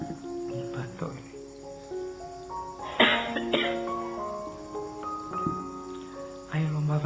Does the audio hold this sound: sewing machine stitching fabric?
no